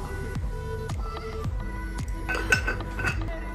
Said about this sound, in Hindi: I will drink water.